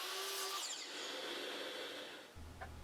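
A small walnut catch block for a wooden push stick being cut on a saw in a woodshop, one continuous near, loud cutting whine that fades and stops near the end, followed by a low hum.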